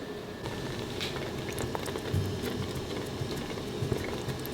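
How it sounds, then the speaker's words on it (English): Whole milk and heavy cream being whisked into a simmering sauce for baked mac and cheese, a low continuous bubbling and liquid churning with light patter, fairly quiet and steady. "gradually whisk in 2 cups of whole milk"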